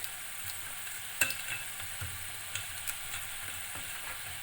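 Fish cook in a pan of oil with water coming to a boil, giving a faint, steady sizzle and bubbling with a few soft utensil clinks, close by and with no talking.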